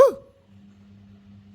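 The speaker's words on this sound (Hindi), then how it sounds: "पता नहीं क्यों भौंक रही है और चल दी नीचे" A pet dog lets out a single short, sharp bark up close, followed by quiet low whimpering and faint background rumble.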